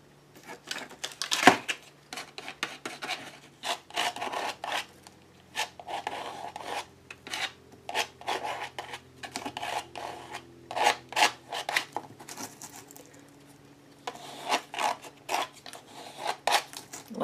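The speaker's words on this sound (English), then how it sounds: "I'm going to bring in my sanding block. This is a coarse sandpaper. And I'm going to go over the dots." Coarse sandpaper on a block scraping over a painted surface, a series of short rasping strokes in uneven rhythm, close and moderately loud, with brief pauses between bursts.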